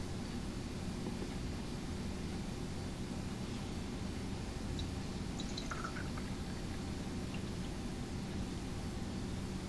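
Warm water dyed red is poured into the top of a baby food jar representing a lake, giving a steady, close trickling pour with faint drips over a constant hiss, with no talking.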